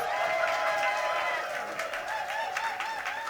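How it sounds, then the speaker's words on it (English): A theatre audience at a variety show cheers and applauds in a steady, fairly distant wash of clapping and voices over about three seconds. "So please, cheer, stamp your feet, make some noise"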